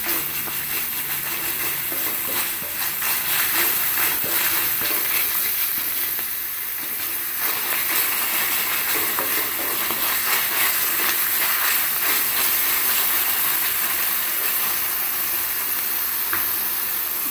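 Radish leaves with a pinch of salt fry in a pan, giving a steady, fairly loud broadband sizzle that holds without a break throughout, with no talking.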